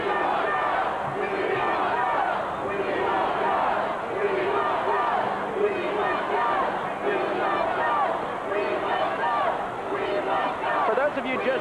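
Capacity crowd at the Redskins victory parade roaring and chanting in a dense, continuous wall of voices, loud and unbroken throughout.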